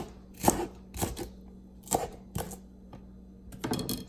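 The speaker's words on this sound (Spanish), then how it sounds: "Ahora vamos a cortar los snow peas" A knife cuts washed snow peas on a cutting board in a series of sharp, separate chops, about seven irregular strikes with brief pauses between them, close and fairly quiet, with no talking.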